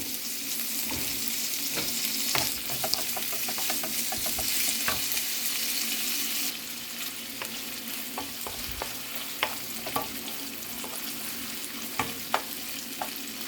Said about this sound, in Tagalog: Ilagay na natin yung bacon. Lulutuan natin for 1 minute.